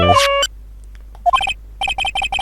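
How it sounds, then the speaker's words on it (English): Electronic phone ringtone from Phoenix Wright: Ace Attorney, loud and close, with a short melodic chime first, then after a pause a rapid repeating burst of bright ringing tones. "I bet it was this ringtone that caused it."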